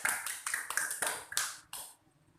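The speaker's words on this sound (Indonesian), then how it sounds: "Beri aplaus." A class audience applauds, a brief burst of clapping from several people that rings out for about two seconds and then stops abruptly.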